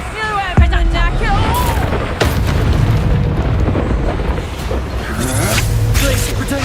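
An Expulso spell explosion in a Hogwarts video game: a loud, sudden blast that rolls on into a long roaring rumble, with a voice calling out over the start.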